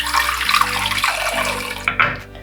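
Tap water runs into a sink as a makeup brush is rinsed beneath it, a close, steady splashing stream that briefly cuts out near the end before trickling on.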